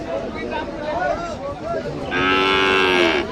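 Cows and calves, including crossbred cattle, at the Baneshwar cattle market in Rajshahi, with a loud, drawn-out moo close by after a stretch of background murmur and market noise.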